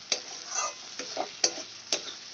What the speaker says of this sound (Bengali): আমি কষিয়ে নেব মশলা যত সুন্দর করে কষানো হবে টেস্টটা তত সুন্দর আসবে